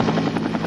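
A helicopter in a Finnish radio drama drones steadily with a close, loud rotor buzz, heard alone without speech.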